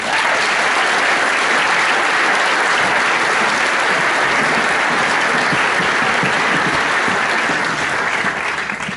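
Loud, dense applause fills a Year 13 graduation ceremony as graduates are named, a sustained roar of many clapping hands that stays even throughout without voices.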